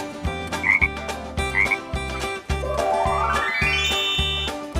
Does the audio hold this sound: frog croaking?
yes